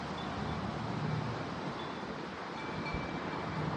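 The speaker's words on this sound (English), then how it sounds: "That is crazy wind!" Severe thunderstorm wind gusts of over 50 mph roar in a dense, steady rush outdoors, loud and unbroken from start to end.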